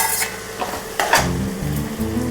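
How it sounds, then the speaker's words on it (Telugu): Bitter gourd curry stirred in a pan with tomato, soft scraping and clinking of a spoon against the pan over a low sizzle, close and steady. "మళ్ళీ కలుపుకోవాలి."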